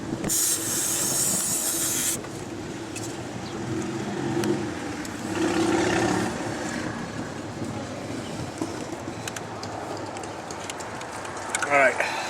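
Aerosol cleaner bursts from a can into the engine bay of a 2010 Nissan Sentra, a loud close hiss at the start followed by softer intermittent spraying and shop noise.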